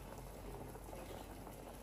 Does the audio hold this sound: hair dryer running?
no